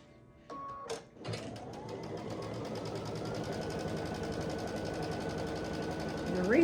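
A sewing machine stitches thin fabric strips together for a scrappy string quilt. After a couple of short starts, it settles into a steady, close, whirring run that lasts to the end with no talking.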